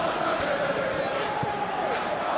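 Stadium crowd noise in a football video game simulation of a PSG versus Aston Villa UEFA Super Cup final, a steady broad roar that swells slightly, with a commentator's voice running over it.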